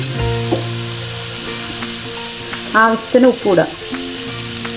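Cabbage, grated coconut and turmeric are stir-fried in a pan, giving a loud, constant sizzle with stirring scrapes. Someone speaks briefly over the cooking.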